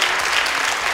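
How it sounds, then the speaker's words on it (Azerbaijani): Audience applause at a bridal fashion event, a dense, loud burst of clapping from a crowd that holds steady throughout. "Alqışlayaq ürəkdən."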